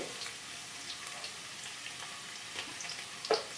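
Chopped garlic and nigella seeds fry in oil as a tempering for a banana flower dish, a soft, steady crackling sizzle heard close but faint, with a small clink near the end and no talking.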